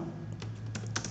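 Keys tapped on a computer keyboard while entering a Google search, a few soft clicks close by over a steady background hum.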